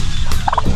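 A turkey in a backyard poultry pen beside chickens lets out a quick, loud gobble of several rapid warbling bursts, close by over a steady low farmyard rumble.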